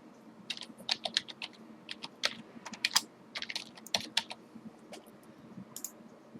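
Fingers tap out a password on a computer keyboard, a quick irregular run of light clicking keystrokes in bursts, close and clear with no talking.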